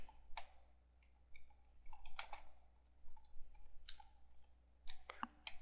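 Fingers type on a computer keyboard in quiet, irregular bursts of soft key clicks, some closely spaced and some isolated, with no talking.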